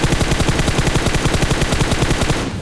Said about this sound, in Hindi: फायरिंग भी हो रहे, तो मैं थोड़ा देखता हूँ।